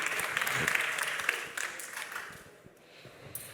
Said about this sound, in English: One enthusiastic slow clap.